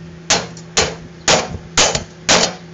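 Five evenly spaced metallic hammer blows bending a metal tab on a go-kart frame during hand fabrication, each a sharp, close impact about half a second apart over a faint steady hum.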